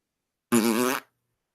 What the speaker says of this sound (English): The only thing he can do is farting.